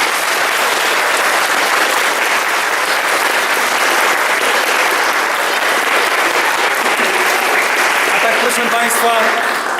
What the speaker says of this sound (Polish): Jeszcze raz wielkie oklaski dla naszych artystów.